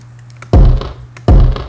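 Layered kick drum samples (chill, big, tight and crushed) hit twice in a song production, each a loud, punchy, deep thump with a short decaying tail, close and dry.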